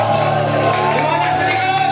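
A crowd shouts and whoops at a lively gathering, with a dense, loud wash of voices and a few raised yells over the steady din.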